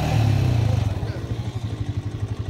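Quad bike engine on a farm, revving in a steady pulsing rumble close by, with people talking over it.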